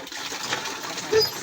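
Motor-driven water pump drawing up and discharging water, a continuous rushing, splashing gush at steady loudness with a brief surge near the end.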